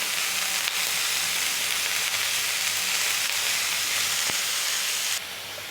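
Vegetables sautéing with red chili powder and turmeric for spring roll filling make a loud, constant sizzle that drops in level near the end, with no talking.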